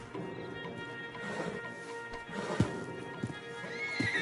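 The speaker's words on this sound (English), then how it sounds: "Marston, you're gonna tether him up to Javier's horse" A stallion in the Red Dead Redemption 2 video game whinnies softly amid scattered hoof clops and faint ambient game sound, fairly quiet and close.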